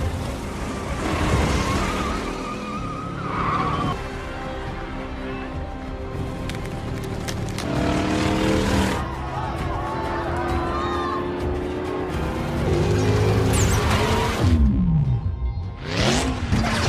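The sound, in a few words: race car speeding, Fast and Furious 8 movie scene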